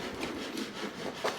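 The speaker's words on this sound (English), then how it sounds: "Trimming the dowel on the hammer to keep the handle and the hammer together." Short back-and-forth sawing strokes trimming a wooden dowel that pins a wooden mallet head to its handle, close and steady with a brief louder rasp near the end.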